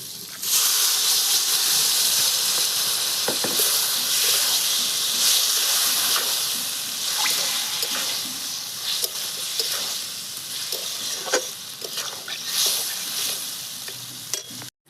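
Capsicum fries with spices in a kadhai, a steady loud sizzle and hiss running throughout, with scattered scraping clicks of a stirring spatula.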